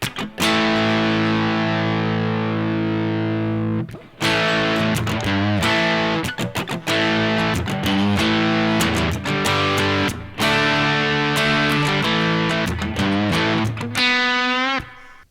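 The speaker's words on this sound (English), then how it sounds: "let's roll that drive all the way forward and get some rockin' tones" Electric guitar through an MXR Timmy overdrive pedal with the drive turned all the way up, loud sustained chords and riffs with brief pauses, ending in a ringing high note.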